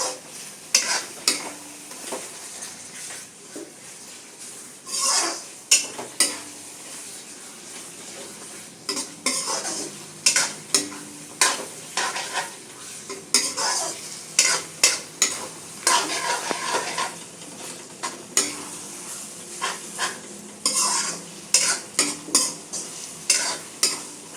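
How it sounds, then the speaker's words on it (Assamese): Tomato, onion and spices frying in a pan for a jackfruit curry, stirred with a utensil: steady close sizzle broken by repeated scraping strokes and clinks, loud and continuous without talk. "গোটেইখিনি মছলা ভালদৰে ফ্ৰাই নহয় আৰু মিক্স নহয়, তেতিয়ালৈকে আমি অলপ সময় ফ্ৰাই কৰি থাকিম।"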